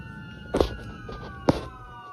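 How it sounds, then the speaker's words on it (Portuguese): A police siren wails faintly in the distance, its steady tone broken by two sharp, louder thumps. "o Ark agora começa a escutar sons de sirene de polícia"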